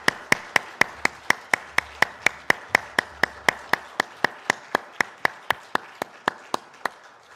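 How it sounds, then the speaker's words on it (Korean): Rhythmic unison clapping from a church congregation at a Sunday Easter worship service, about two dozen sharp, evenly spaced claps, steady and moderately loud with no voices. "하나님께 영광의 박수 올려드리겠습니다"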